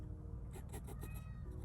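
A pet cat meows a few times nearby, short quiet calls over a low background hum.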